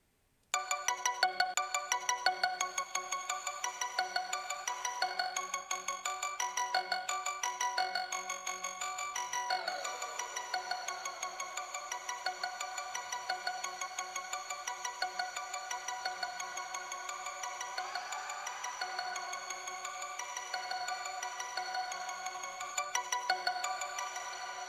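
A ringtone-like melodic tone is held and smeared by a Cryostasis freeze effect plugin, producing a sustained, shimmering, repeating tonal drone that stays fairly quiet throughout.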